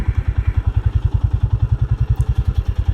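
A Royal Enfield motorcycle idles close by, its single-cylinder thump beating in a fast, steady, even rhythm.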